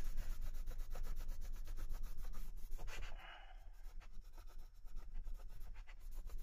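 Steady, close rubbing of a wooden speaker stand to remove tape, a continuous scraping friction sound with rhythmic back-and-forth strokes.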